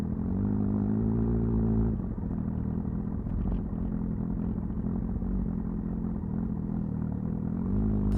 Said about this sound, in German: jetzt Zweitversuch mit dem externen Rekorder, dass wir ein bisschen Motorsound drauf kriegen